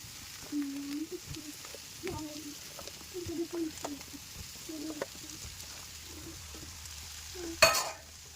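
Soya chunks are stirred into masala in a pan. A quiet, faint sizzle runs under soft scraping strokes, with muffled murmurs in the background and one brief, sharper clatter near the end.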